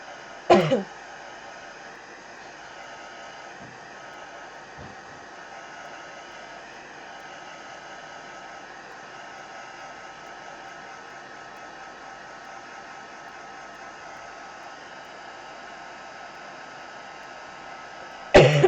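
A blow dryer gently dries paint on a paper bag mixed media journal, giving a steady close whirring hiss that runs unbroken for most of the stretch, with brief handling knocks at the start and end.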